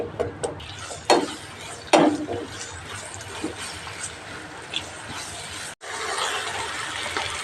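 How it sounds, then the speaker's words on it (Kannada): Onions frying in a pan toward a brownish colour for a hotel-style tomato gojju, with a steady sizzle broken by a few sharp scraping stirs and a brief cut near the end. "ಈರುಳ್ಳಿ ಇದು ಬ್ರೌನಿಶ್ ಆಗೋವರೆಗೂ ಚೆನ್ನಾಗಿ ಫ್ರೈ ಮಾಡ್ಕೊಳ್ಳಿ"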